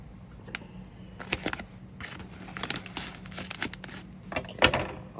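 Crinkling and tearing of wrapping on a Secret Santa gift package being opened by hand, a run of close, sharp rustles and rips in irregular bursts with short pauses, no talking over it.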